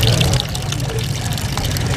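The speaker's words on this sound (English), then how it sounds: "The sound of running water is returning to parts of Yaoundé." Water runs from taps in the city of Yaoundé, a dense, steady rushing splash for a couple of seconds before cutting off abruptly.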